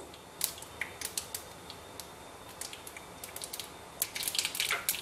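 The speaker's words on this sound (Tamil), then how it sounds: "கடுகு வெடிக்கட்டும்." Sharp, irregular crackles and pops from mustard seeds bursting in hot oil, quiet and scattered, thickening into a denser flurry toward the end.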